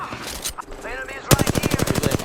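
Rapid automatic gunfire rings out in Apex Legends, a loud, steady burst of evenly spaced shots following a stretch of game sound and muffled voice chatter.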